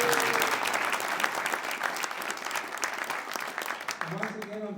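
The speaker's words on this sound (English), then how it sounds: "a round of applause for them." A large audience at a Meet the Candidates event applauds steadily and fairly loudly for several seconds, and the clapping fades toward the end.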